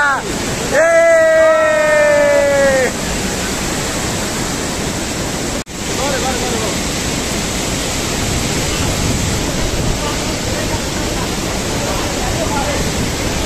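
Jogini waterfall near Manali in the Himalayan hills roars as a steady, loud broadband rush that fills the whole stretch, with a brief whistle-like tone early on and no break in the water noise.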